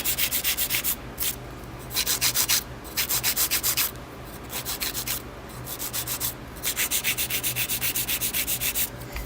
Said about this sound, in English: back in with my 80 grit hand file